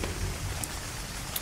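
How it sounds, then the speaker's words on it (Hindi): Steady rain falls in the survival video game Ark: Survival Evolved, a dense, constant hiss of rainfall with scattered drop patter and no voices. "बारिश हो गई"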